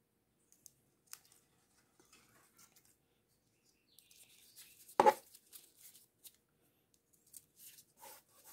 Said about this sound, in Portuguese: É só acertar aqui com a tesoura.